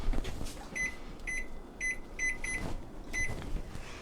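An oven timer beeps in a home kitchen during pumpkin spice bar baking, a series of short, thin electronic beeps in small irregular clusters, fairly faint over a steady hum of background noise.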